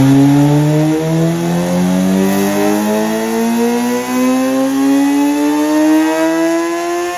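Kawasaki ZX-4RR with an M4 full exhaust system revving hard on a dyno, a high-pitched inline-four wail climbing steadily in pitch through the run, loud and close with no talk.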